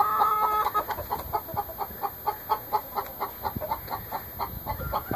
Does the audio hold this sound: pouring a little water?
no